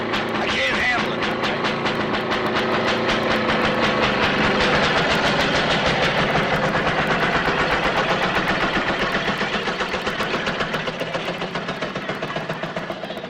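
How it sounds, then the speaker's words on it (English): A train rumbles and clatters steadily through an enclosed space, a dense roaring wash with rhythmic clicking, loud throughout and slowly fading near the end. "Trains come through the tunnel."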